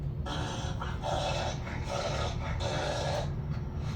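A dog makes repeated rasping, choking or gagging breaths in a rhythmic series of harsh bursts, heard through a steady background hum with no talking.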